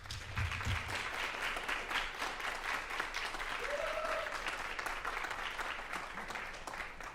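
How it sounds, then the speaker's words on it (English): An audience applauds a choir and instrumentalists after a concert, dense sustained clapping filling the hall, fairly even in level, with a faint voice briefly audible near the middle. "Can we give them a round of applause, please?"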